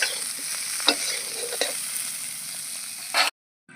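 Cauliflower fries in oil in a wok, a close steady sizzle broken by a few scraping stirs, the last one louder, before cutting to silence.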